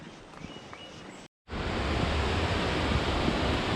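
Sathodi Falls near Yellapur roars from a distance as a steady, even rush of falling water. A brief dropout is followed by the louder, unbroken wash.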